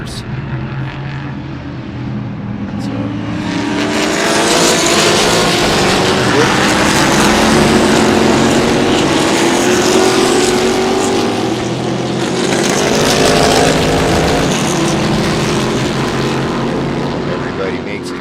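Race cars at Sebring sweep past on the track as a pack, a loud rising-and-falling engine roar swelling to a peak and tailing off, heard from trackside with a commentator speaking over it.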